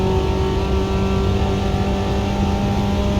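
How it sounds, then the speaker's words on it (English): Steady mid-pitched engine roar of a Volkswagen Passat passing in a racing video game, a continuous loud drone with a slight revving rise and no gaps, heard alone without talk. "I got passed by a Passat."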